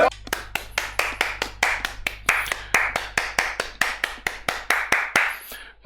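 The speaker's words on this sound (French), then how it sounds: "applaudissez-le s'il vous plaît." A small group claps in a regular, evenly spaced rhythm, about twenty crisp, close claps over several seconds, during a French dating-game reaction show, with a low steady hum beneath.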